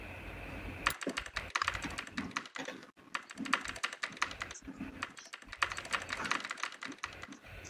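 Typing on a computer keyboard, quick bursts of key taps with short pauses between them, close and fairly quiet, no voices.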